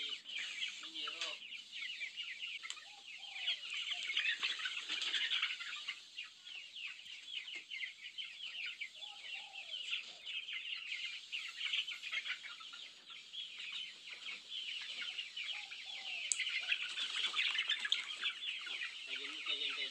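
A flock of chickens clucks steadily, a dense chorus of busy calls and rustling from many birds at moderate distance that continues for the whole stretch without pause.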